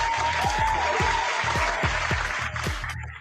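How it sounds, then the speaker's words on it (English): Scattered applause from a small group gathered outdoors for a model plane review and first flights, fairly close, with rhythmic thumping pulses underneath. "Give everybody applause for showing up."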